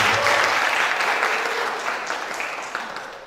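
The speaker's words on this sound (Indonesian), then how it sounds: "Sekali lagi kita tepuk tangan untuk senior kita." An audience at a kethoprak discussion gathering claps in sustained applause, loud at first and gradually tapering off over a few seconds, with no voices over it.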